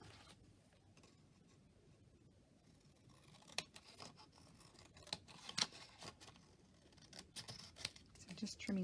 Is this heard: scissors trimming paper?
yes